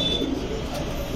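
A silver panky pigeon, a coloured giribaz breed, at a pigeon seller's shop gives a single soft, brief coo against a faint background.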